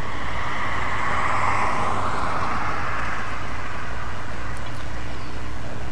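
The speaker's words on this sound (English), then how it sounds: "We're starting from this gas station and driving to a gas station in Mason, Michigan." A car cruising along a road near a gas station in Michigan, giving a steady, loud broadband road and engine rumble throughout with no talking.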